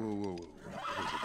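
A horse in The Last of Us video game gives a loud neigh and whinny up close, with people talking over and around it.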